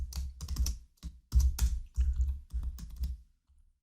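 C code being typed on a computer keyboard: bursts of quick, close key clicks in short irregular runs separated by brief pauses, no voice over them.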